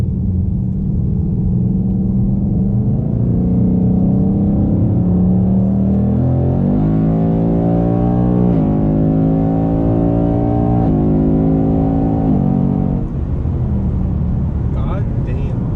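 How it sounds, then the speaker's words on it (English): A 2020 Ford Mustang GT's exhaust rumbles heavily from inside the car and revs up in rising steps, with people talking over the engine drone. "Exhaust is so much louder now."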